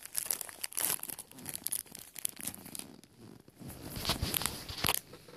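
A Yu-Gi-Oh Premium Gold card pack wrapper torn open by hand, giving a run of close crinkling, crackling rips that come in irregular bursts, louder toward the end, with no talking.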